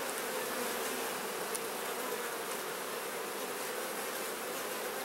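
Honey bees buzz as an open hive is inspected with frames lifted out: a dense, steady swarm drone, close and even, with no talk.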